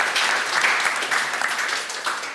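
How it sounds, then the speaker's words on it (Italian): An audience applauds a children's sports coach, filling the space with loud, dense, continuous clapping that swells and eases slightly without any voices. "Facciamo un applauso al vostro allenatore."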